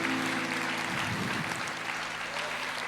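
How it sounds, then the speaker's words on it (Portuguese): A church congregation at a Brazilian evangelical service claps for the Lord, a fairly soft, continuous wash of applause with a sustained musical tone underneath in the first half. "a igreja aplauda ao Senhor"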